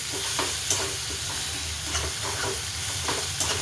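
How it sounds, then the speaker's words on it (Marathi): Tomatoes stirred into hot oil with green chillies in a pan, giving a steady close sizzle with soft scraping strokes of the spoon at a loose rhythm. "टमॅटो टाकून देते. एकजीव करते तेलामध्ये."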